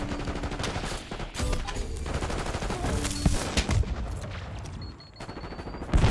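Heavy gunfire rattles through a Call of Duty Black Ops 6 Hardpoint match, dense overlapping shots and bursts at close range, loud and continuous with scattered sharper cracks, no talking.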